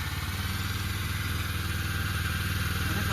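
A Kubota rice planter's engine runs steadily throughout, a loud, close, even chugging idle with mechanical clatter and no talk.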